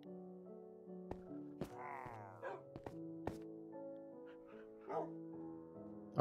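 Minecraft dogs whimper and yip in short, soft bursts over quiet game tones and thuds, with brief pauses between the cries.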